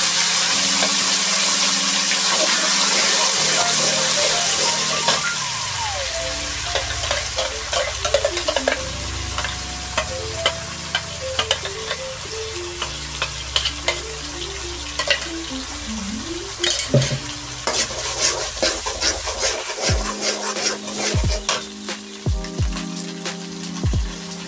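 Spice paste fries and is stirred in a pan with whole garam masala for a chicken curry. It opens with a loud, bright sizzle, then settles into steady frying with repeated scraping stirs. Sharp clatters of a utensil come near the end.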